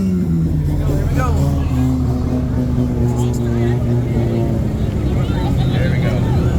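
A BMW's engine revving hard at a car meet sound check, a loud rising and falling drone with crowd chatter and shouting all around.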